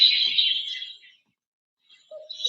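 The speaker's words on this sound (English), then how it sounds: "Oh, Julie, this is your ringtone." A phone ringtone plays aloud, a bright high-pitched electronic tone for about a second, then silence, then a short chirpy tone returns near the end.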